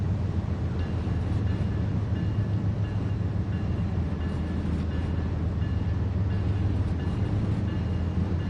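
A train rolls past on the track in Train Sim World 4 on the Rocky Mountains route, a continuous loud rumble with low drone and steady wheel noise, no voices.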